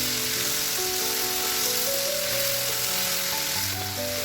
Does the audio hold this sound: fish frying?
yes